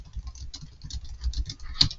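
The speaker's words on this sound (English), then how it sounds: "Listen to my keyboard click." A Logitech computer keyboard clicks in a quick, close patter of light keystrokes, with a slightly louder tap near the end.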